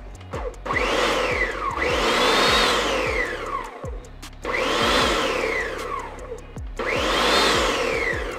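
A Ninja blender pulses tomatoes, skins included, for pasta sauce, with three loud whirring bursts that rise and fall in pitch, separated by short pauses, close and without talk.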